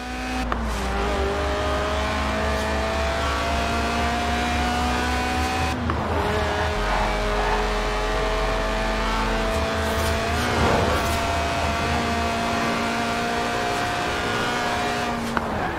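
Lotus Elise Sport 190, a tuned, stripped-out track-day car with a mid-mounted engine and rear-wheel drive, in Forza Horizon 4: a loud, close engine revving steadily and climbing through gears with brief shift dips, continuous and alone.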